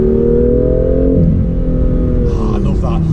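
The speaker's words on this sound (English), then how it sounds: "When you take your foot off the accelerator in a low gear, it's so good" A modified BMW M2 comes off the throttle on a downshift from third to second, its engine tone sliding lower in a smooth falling drone. Someone talks over it.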